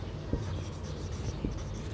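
A pen scratches over paper while a math exercise solution is written out by hand, giving quiet, brief strokes and taps against a soft room hum.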